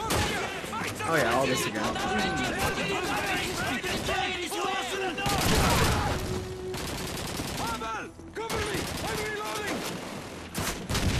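Machine gun fire in a Call of Duty 2 battle: dense, continuous bursts of gunfire with scattered shots and chaotic combat noise throughout, loud and close, while someone speaks briefly over it.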